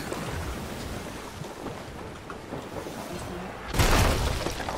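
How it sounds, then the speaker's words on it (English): Cannons fire from a ghost ship battle in the pirate video game Sea of Thieves, with distant booms over ocean wind and waves, then a loud close blast near the end. "how many cannonballs can they just shoot off in one go?"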